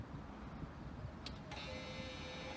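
A Hyundai Ioniq 5 engages via its remote button to creep forward on its own: a faint quiet background, a single soft click, then a steady high electric whine that starts and holds.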